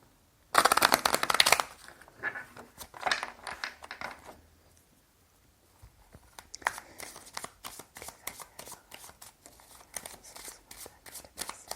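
Tarot cards are shuffled by hand, opening with a loud dense riffle burst, then softer intermittent flicks and a long run of quick, rhythmic card slaps, close up with no talking.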